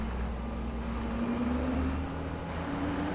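A Renault Magnum truck in Euro Truck Simulator 2 hauling a heavy container trailer, its engine droning steadily at a constant low pitch, loud and close with no speech.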